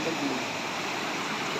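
Floodwater rushes steadily after a night of heavy rain, a continuous broadband wash of flowing water that stays loud and even throughout, with no clear voices over it.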